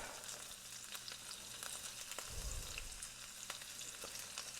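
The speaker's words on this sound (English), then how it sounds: "the pan is getting hot, so I'm going to go ahead and I'm going to put some of the onions" Onions frying in a hot pan, a soft, steady sizzle throughout with a brief low thump partway through, fairly quiet and with no talking.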